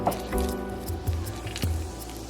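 Wet sourdough focaccia dough, moistened with a little water, worked by hand; soft squishy squelches and sticky slaps, close and quiet, with no talking.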